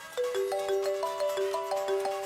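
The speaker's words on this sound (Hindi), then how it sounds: "तभी अचानक ही आहान का मोबाइल बज उठा।" A mobile phone ringtone plays a bright, repeating melodic tune of rising and falling electronic notes, fairly loud and close, with no voices over it.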